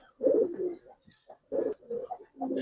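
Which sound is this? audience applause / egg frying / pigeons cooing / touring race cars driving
pigeons cooing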